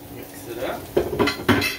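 Potatoes, chives and other farmer's breakfast ingredients are mixed in a pan: a few close scrapes and knocks of a utensil against metal, with a faint sizzle underneath.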